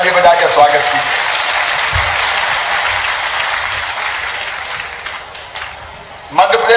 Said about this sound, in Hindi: जरा तालियां दोनों हाथों पर उठाकर ताली बजा के स्वागत कीजिए।